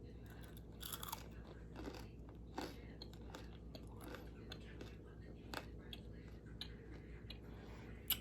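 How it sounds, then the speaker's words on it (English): Crunchy homemade low-calorie granola is bitten and chewed close to the mic, a run of crisp crackling crunches and soft mouth sounds with brief pauses between bites. "Let's see if we have a crunch because that's key to granola."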